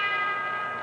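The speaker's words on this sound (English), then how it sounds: "Bell for round 5, and Moore bounded out there that time." A boxing bell rings to start round 5 of a 1961 professional bout, a single sustained metallic tone ringing out steadily and fairly loud.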